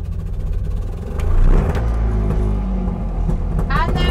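A 1960s Bond Mini Car Mark G microcar engine runs loud and rattly at close range, revving up briefly and settling into a harsh, buzzing idle, with someone talking over it.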